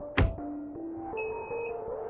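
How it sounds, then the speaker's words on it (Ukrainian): A short knock followed by steady electronic tones stepping in pitch, then a high sustained beep layered on top: the safety-cutoff warning signal of a Procraft PKA36 cordless mini saw. "Якщо у вас вимкнувся цей запобіжник, пилка має звуковий сигнал."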